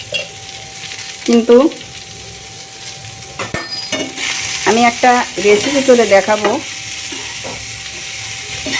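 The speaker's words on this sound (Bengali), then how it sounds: "উচ্ছে ভাজা করছি এই প্রখর তাপে, জ্যৈষ্ঠের প্রখর তাপে।" Sliced bitter gourd frying in a pan makes a continuous close sizzle with stirring scrapes and light clinks, while someone talks over it in bursts.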